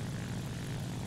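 Damaged propeller engine of a fighter plane in the War Thunder video game drones steadily and loudly with a low, rough, continuous roar, with no talk over it.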